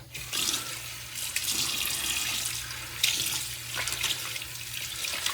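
Tap water runs steadily into a sink while someone wets their face before a wet shave, a close, continuous splashing stream with brief surges from the hands, no talking.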